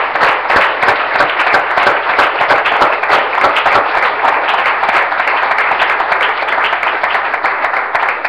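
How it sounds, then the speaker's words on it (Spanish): A church congregation applauds loudly and steadily, with many hands clapping together in a full, sustained round that echoes slightly through the room. "Dale un aplauso al Señor,"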